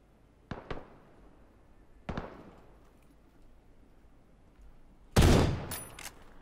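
Gunfire and explosive bursts in a video game firefight, with two sharp separate cracks early on, then a louder, denser blast of shots near the end over a quiet background.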